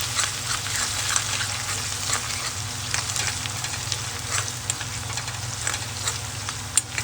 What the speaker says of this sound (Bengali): দিয়ে দেবো রসুন কুচি। একটু ভালো করে ভেজে নেব